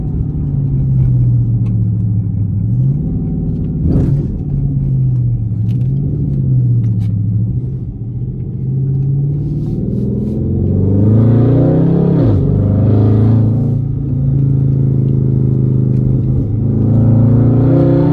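A 2012 Dodge Charger SRT8 driven in manual mode, its engine droning loudly and steadily up close, revving up and dropping back as gears are shifted by hand, with several rising pulls and no talking.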